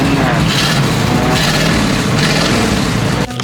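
An old long-bed pickup truck's engine runs loud and steady nearby, a dense continuous rumble with broadband noise that cuts off abruptly near the end.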